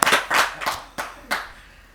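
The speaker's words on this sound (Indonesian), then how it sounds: "Tepuk tangan buat the man behind the mask." A few people clap for a guest introduced at a talk show on online gambling rehabilitation: a handful of brief, scattered clapping bursts, fairly close, fading after about a second and a half.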